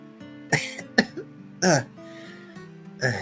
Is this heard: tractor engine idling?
no